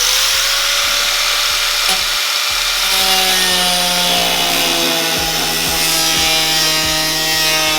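Steady saw cutting through wood, a continuous rasping drone with a regular stroke-like pulse repeating throughout, close and loud with no talking.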